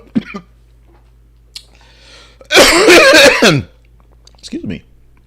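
A person coughs several times in a short burst, fairly close and loud, with quieter throat noises before and after during a live broadcast.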